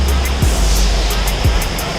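Water flowing at Neyyar Dam makes a loud, steady rushing roar close by, with a couple of low thumps in the brief stretch.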